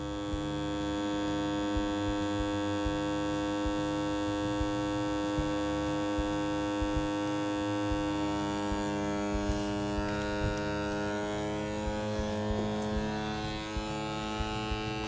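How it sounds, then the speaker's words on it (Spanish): A vacuum sealer's steady electric motor hum with a low pulsing drone, continuous and fairly loud throughout, as its small pump draws out air. "Ahora mismo está sacando el aire y finalmente cuando saque el aire lo termosellará"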